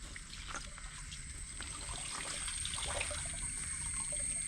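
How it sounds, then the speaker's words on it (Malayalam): Water trickles steadily onto freshly packed potted plants, a close, continuous light pour and splash with no voices. "ഇനി ജസ്റ്റ് ഒന്ന് വെള്ളം നനയ്ക്കാം."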